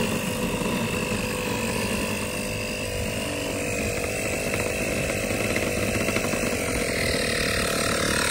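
A motorized air pump runs steadily, pumping air into a PVC pipe, its loud, continuous buzzing drone holding even from start to finish with no voices over it.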